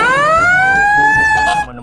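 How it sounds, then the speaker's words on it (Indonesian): Fire truck siren rising slowly in a loud wail, heard close, then cutting off abruptly near the end. "yang ini mobil damkar"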